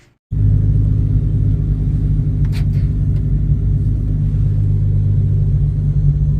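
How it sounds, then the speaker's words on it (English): Loud, constant low engine drone and rumble from a car driving down the road, heard from inside, starting abruptly and holding steady with a brief faint rattle partway through. "Now the car sounds crazy. I can hear everything as I go down the road"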